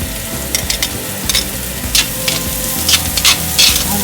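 Ginger being stirred into a very hot pan while cooking salmon in coconut milk, sizzling and crackling loudly with repeated scraping bursts from the stirring, close up and with no voices.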